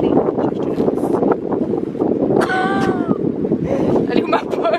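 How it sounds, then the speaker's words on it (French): Strong gusts of wind buffet the microphone outdoors on a cold, rainless day, a steady rumbling roar that continues under speech. "en soit il pleut pas, il y a juste beaucoup de vent"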